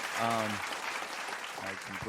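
Audience applause breaking out during a Boston-area talk show interview with a guest, a broad steady clapping wash lasting the whole moment, with voices speaking over it near the start and again near the end.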